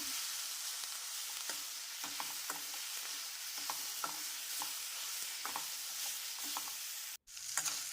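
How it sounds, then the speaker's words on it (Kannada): Radish chutney mixture with coriander leaves is stir-fried in a pan, giving a steady close sizzle with soft repeated scrapes and taps of stirring throughout and a brief break near the end; no one speaks. "ಕೊನೆಯದಾಗಿ ಕೊತ್ತಂಬರಿ ಸೊಪ್ಪು ಹಾಕ್ಕೊಳ್ತೇನೆ ಇದನ್ನ ಸ್ವಲ್ಪ ಹುರ್ಕೋಬೇಕು"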